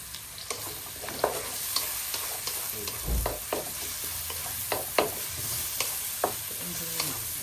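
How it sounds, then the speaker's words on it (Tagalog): Garlic and onion fry steadily in hot oil with a continuous soft sizzle, broken by frequent light scrapes and taps of a spatula stirring the pan, close and moderately quiet. "golden brown lang natin yung bawang and same as yung ating sibuyas"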